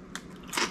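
Crunchy sea salt veggie straws bitten close up, with two sharp crisp crunches, a short one early and a louder, longer one near the end, and no talking.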